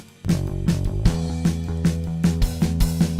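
Electric bass track with slight distortion, heard alone as a mixing example: a steady run of plucked notes with a punchy, clear attack and an even rhythm throughout.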